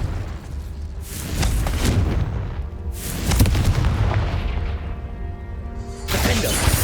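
Blasts of the Confringo fire spell in Hogwarts Legacy, a few loud booming bursts at about one-second and three-second intervals followed by a rumbling tail, with another burst near the end, all over steady game ambience.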